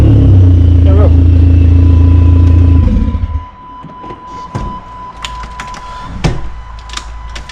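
Chrysler PT Cruiser Turbo with catalytic converters cut off, idling loud and rough for about three seconds before shutting off, followed by clicks, rattles and a steady tone.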